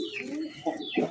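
Red Bombay pigeon cooing close by in a loft, a few low, throaty coos swelling in bursts over a steady murmur of other birds.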